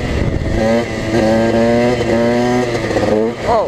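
A dirt bike engine revs hard and close, holding a buzzing, rising note through most of the stretch before easing off, with a brief voice at the very end.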